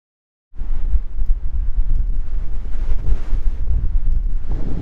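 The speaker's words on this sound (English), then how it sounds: "It's still quite windy now." Strong wind at a beach park in northern Spain buffets the microphone in loud, gusty roaring bursts, starting suddenly after a moment of silence and continuing without letup.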